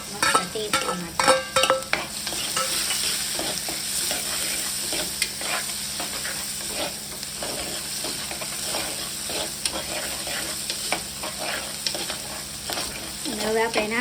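Onions frying in a hot pan and being stirred, a continuous close sizzle with repeated scraping and clattering of a spoon against the pan, loudest in the first couple of seconds, no voices.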